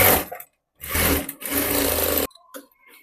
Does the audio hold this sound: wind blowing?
no